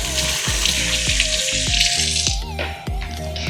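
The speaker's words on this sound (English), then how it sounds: "let me wash my hands first" Steady running water from a kitchen tap splashing over hands being washed, continuous and close, with faint clinks and taps from a home kitchen.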